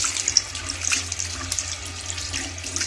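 Running tap water splashes steadily over a plastic leopard gecko box being rinsed in a sink, a continuous close hiss with small irregular spatters and no talk.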